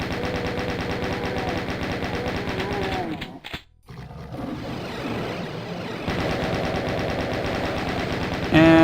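Rapid weapon gunfire in the video game Doom II rattles in a dense continuous stream, pausing briefly midway before resuming just as loud and relentless.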